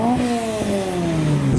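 A supercharged modified car arriving at a Sunday morning car show, its engine loud and close with a droning note that slides slowly lower and then rises again near the end.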